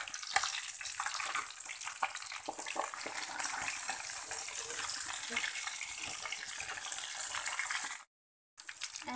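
Pieces of bighead carp deep-frying crisp in hot oil give a steady, dense sizzle and crackle close by that runs almost without pause, then cuts out briefly near the end.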